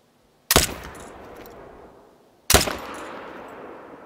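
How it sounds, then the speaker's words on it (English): Two sharp, loud rifle shots fired at wolves, spaced about two seconds apart, each cracking sharply and then trailing off into a long echoing rumble across open ground. "I'm gonna go ahead and take the shot, guys."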